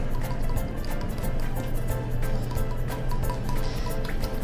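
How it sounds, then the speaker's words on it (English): A wire whisk stirs a liquid coconut oil soap mixture in a small bowl, producing a steady wet swishing and sloshing with faint drips throughout. "Now I like to use a whisk for this just because the bowl's so small"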